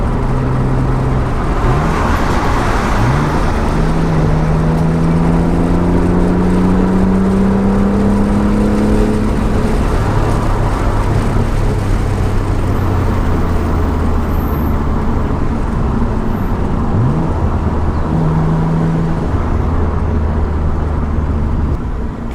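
A Renault Clio V6 Sport Phase 2 accelerates along a road, its engine note rising in pitch through a strong burst and then easing back, with steady road and wind roar underneath.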